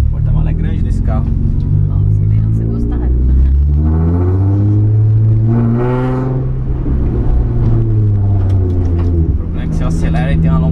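A Nissan 350Z drift car accelerates on a cobblestone street, its engine rumbling and rising in pitch as it revs. People talk over the engine throughout.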